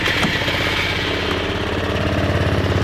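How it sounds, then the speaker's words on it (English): A fuel-injected Honda SH150 scooter engine runs close by, a loud, steady, rapid chugging idle with a fine rhythmic pulse throughout. "So let's start the SH150."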